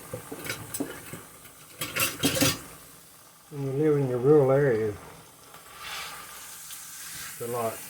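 A beef pot roast sears in an Instant Pot with a fizzing sizzle and a few louder bursts of spatter. Someone talks over the frying partway through.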